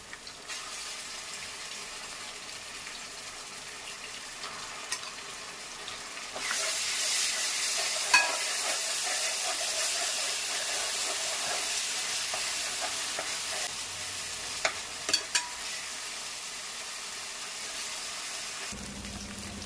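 Ginger garlic paste for mutton curry fries in a pan with curry leaves and coriander. A soft hiss swells into a loud, steady sizzle partway through, broken by occasional scrapes of stirring, with no talking.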